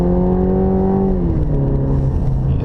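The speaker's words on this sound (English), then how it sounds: "You can see that upshift, even in sport mode, it's just a touch on the slow side." Cadillac CT4 engine in sport mode, loud and close, holding a steady drone before the pitch drops through an upshift and settles lower, with no other sounds over it.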